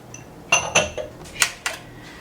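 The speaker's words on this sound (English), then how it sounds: "give this a good mix around the pan. Make sure it's evenly mixed." A utensil stirs flour with baking powder, cornstarch, salt and baking soda in a bowl, giving four or five distinct clinks and scrapes against the bowl in an uneven rhythm, close and clear with no talking.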